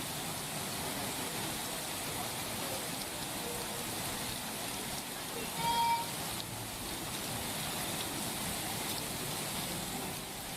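Heavy rain pours steadily in Gujarat, a dense, even hiss of downpour on surfaces that stays loud and unbroken from start to finish, with a faint brief tone near the middle.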